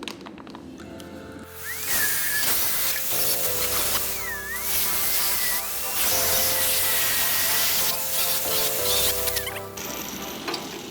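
Angle grinder grinding metal on a Citroen Ami car, a loud harsh continuous hiss and whine with the pitch rising and falling as the disc bites, close up.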